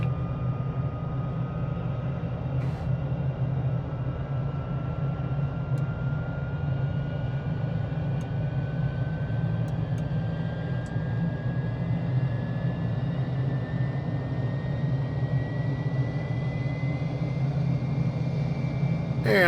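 An IndiaFoxtEcho F-35 jet engine starting up in Microsoft Flight Simulator 2020, a steady loud engine drone with a thin whine slowly rising in pitch as it spools up.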